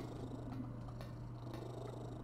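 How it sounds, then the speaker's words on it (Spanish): A deaf cat purring loudly and steadily close by, a continuous low rumbling drone with a few faint clicks over it, heard over quiet background sound from a horror video game. "Ronronea muy alto y maulla muy alto."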